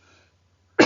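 A single sharp cough bursts in near the end, loud and close, after a near-silent stretch with only a faint low hum.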